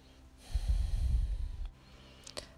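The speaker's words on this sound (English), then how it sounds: "And just breathe a moment" A deep, slow breath during a yoga session, a soft rushing exhale that swells and fades over about a second, close and quiet, followed by faint small sounds.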